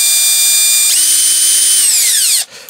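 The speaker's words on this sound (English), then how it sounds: "I've been doing some little experiments with the note of the drill" A power drill spins a cylinder hone inside a clamped Honda CD200 Benly cylinder, a steady loud whine that jumps in pitch, holds, then slows and winds down before cutting off.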